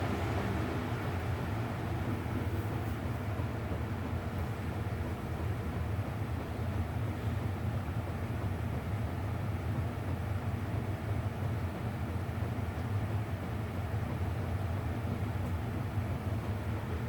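A Lasko 20-inch box fan running on its lowest speed gives a steady, broadband whooshing drone with a low hum, constant and unchanging throughout with no voices.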